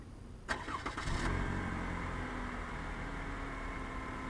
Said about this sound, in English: This vehicle is equipped with remote start.